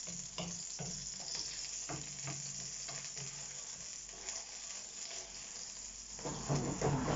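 Onion and garlic browning in a frying pan while cooking paella outdoors in the countryside, with a steady sizzle, scattered spoon-stirring scrapes, and a louder crackle rising near the end.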